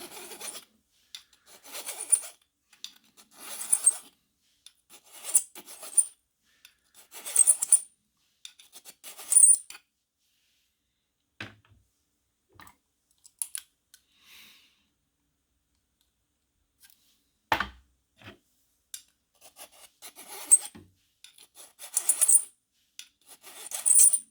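Brass cartridge cases being deburred during case prep for handloading, with bursts of close, scratchy rasping and small metallic clicks that come in clusters, a long quiet stretch in the middle, then more rasping near the end.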